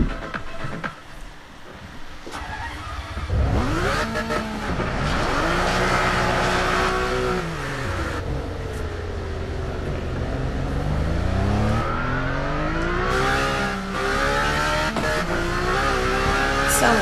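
A Ferrari 612 in the racing game Test Drive Unlimited 2 revs and accelerates through several gear changes, its engine note climbing and dropping loudly and steadily with brief tire noise and no talk.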